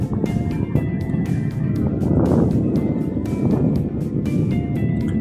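A fishing boat out at sea drones steadily with a continuous engine rumble and wind rushing across the microphone, with no voices heard.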